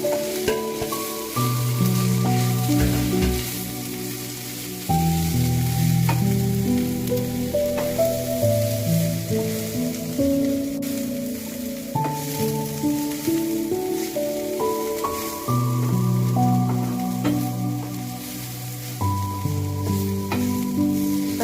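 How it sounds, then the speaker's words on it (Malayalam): Masala for beef vindaloo sautéing in a pan, a continuous close sizzle with rhythmic scraping and squishy stirring strokes recurring throughout, steady and fairly loud. "നന്നായിട്ട് വഴറ്റിക്കൊണ്ടിരിക്കുകയാണ്"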